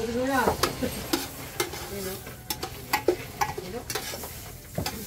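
Garlic and onion sautéing in a pan for Bicol-style shrimp sinigang, a steady sizzle with repeated scraping stir strokes and light clinks of a spoon against the pan, close and fairly loud throughout.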